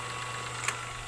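A disinfectant sprayer's motor idles steadily on a piggery farm, a faint continuous hum with a low drone and one brief click.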